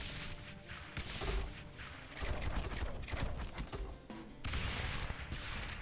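Mortar towers firing in the tower defense game Rogue Tower, repeated booming volleys in dense bursts with brief gaps between, loud and continuous over the game's background, no talking.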